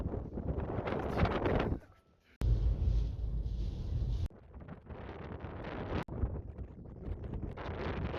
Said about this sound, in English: There is very strong wind.